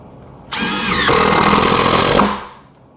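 A Makita XDT13 cordless impact driver sinks a 3.5 inch screw in one loud, close burst lasting under two seconds, a dense rapid hammering rattle that revs up, holds steady and then cuts off as the screw seats.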